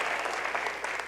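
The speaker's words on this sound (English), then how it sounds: "Give her a round of applause." Audience applause at a state of schools address, a brief dense burst of crowd clapping, loud and continuous.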